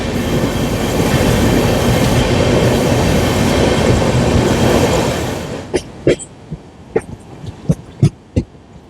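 A passenger train on a new route from New Jalpaiguri to Digha rumbles loudly into Barsoi Junction, the steady roar fading into slow, spaced clicks of wheels over rail joints as it slows.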